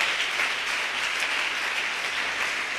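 Church congregation applauds in a Pentecostal service, a steady dense wash of hand clapping filling the hall without pause.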